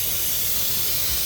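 Tap water pours steadily into a sink holding freshly transplanted coffee seedling pots, a loud, even hiss of running water filling the basin with no pauses.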